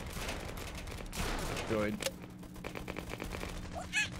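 A cannon fires in the ape-themed war video game Apewar, with dense, loud booming and battle noise filling the clip. A player's voice cuts in briefly.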